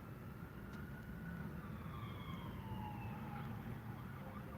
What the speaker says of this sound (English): I hear a siren in the background.